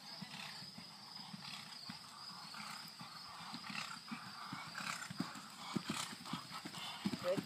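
Belgian draft horse cantering during a jumping session, hooves clip-clopping in an irregular rhythm that grows louder and more distinct toward the end, set against a steady outdoor hiss.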